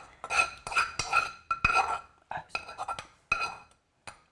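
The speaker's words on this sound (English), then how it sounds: "Didn't mean to scrape." Utensils scrape and clink against a cooking pan holding bacon grease and sautéed Vidalia onion, a series of short metallic scrapes and knocks, close and distinct with brief pauses between.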